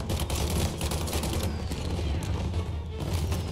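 Rapid gunfire rattles in the 1930s crime game Mafia Definitive Edition, a dense fusillade of shots running continuously under a rumbling low background.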